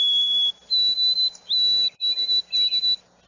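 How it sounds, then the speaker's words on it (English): A white-throated sparrow sings its slow, clear whistled song, a run of pure sustained notes with a rising step after the first one and brief breaks between the later phrases, loud and close with no voices. "the white-throated sparrow, a slow, clear whistle"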